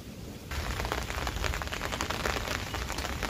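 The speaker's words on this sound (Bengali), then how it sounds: "যা বৃষ্টি হচ্ছে" Steady rain pours down outdoors on a balcony with potted plants, a dense continuous hiss of drops hitting surfaces that starts abruptly and holds loud and even throughout, with no voices.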